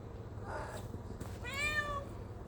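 A pet cat begging for food gives two meows close by, a short one and then a longer, louder drawn-out call, over quiet room hum.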